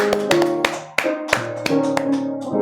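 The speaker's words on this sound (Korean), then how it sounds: "우리 하나님께 감사와 영광의 박수 드리겠습니다" Church congregation applauding in a sanctuary, a few sharp hand claps and taps standing out over a sustained organ or keyboard chord, fairly close and moderately loud, with no talking.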